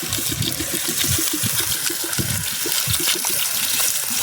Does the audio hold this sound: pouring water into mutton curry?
yes